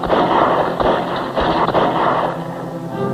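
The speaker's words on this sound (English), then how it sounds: "Repeating rifles." Repeating rifles fire in an action scene from a western movie: several loud, close bursts of gunfire over a rumbling background, with no talking.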